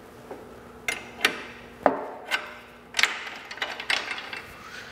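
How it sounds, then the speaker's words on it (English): A wrench loosens carriage bolts on a hydraulic through-frame slide-out head assembly, giving a series of sharp metallic clicks and clanks, about a dozen spaced irregularly, close up against a low background hum. "we're going to loosen up these carriage bolts on the head assembly"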